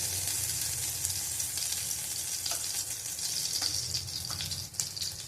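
Oil sizzling steadily in a pan while pumpkin, potato and ridge gourd cook, a dense, continuous hiss with faint stirring scrapes, close and even throughout.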